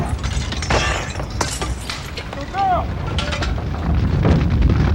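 Window glass breaking during a patrol car fire rescue, with several sharp crashes and shattering bursts through the first two seconds over loud, continuous fire and engine noise, and faint voices in the background.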